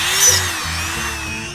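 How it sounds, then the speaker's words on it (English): A Dremel rotary tool whines steadily at close range for the whole moment, cutting a piece out with a high, continuous grinding buzz and a brief louder swell near the start. "So then I got my Dremel."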